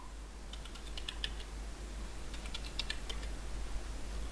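Quiet, close clicks of keys being pressed on a computer keyboard while a password is typed at a CentOS/RHEL 7 terminal, in two short bursts of rapid taps over a faint steady hum.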